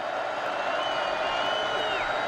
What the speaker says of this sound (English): Crowd comes to life here on 3rd and 5.